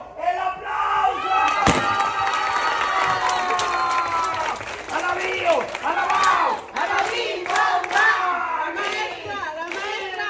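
A lively crowd honoring schoolteachers at an event in the Llanos claps and cheers, shouting voices overlapping throughout, with tonal whoops and whistles over continuous clapping and no clear speech.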